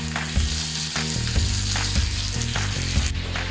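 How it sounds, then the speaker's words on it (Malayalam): Curry leaves hit hot tempering oil with popped mustard seeds and red chillies for a pineapple pachadi, producing a loud, continuous close sizzle with sharp crackles and light stirring clicks and no talking. "കറിവേപ്പില കൊടുക്കാം ലാസ്റ്റ്."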